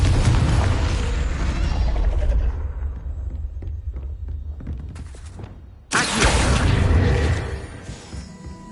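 Confringo blasting spell in Hogwarts Legacy, a loud booming explosion with rumbling decay, a few smaller pops and clicks, then a second sharp blast with whooshing debris.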